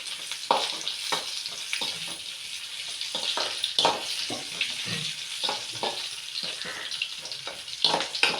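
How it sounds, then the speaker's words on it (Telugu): Spices tempering in hot oil for a village-style dal with tomato and raw mango, a continuous crackling sizzle broken by frequent scraping and clinking of a stirring spoon, close and steady with no talk. "ఇదండి చూడండి, తాలింపు అయితే వేగిపోయింది."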